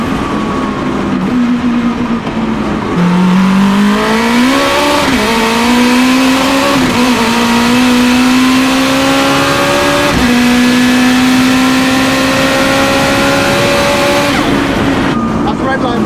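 An 800hp four-wheel-drive Honda Integra Type R DC5 with a sequential gearbox pulls hard from inside the cabin, its engine note climbing steeply through the revs with a quick shift pause, loud and continuous, then easing off near the end.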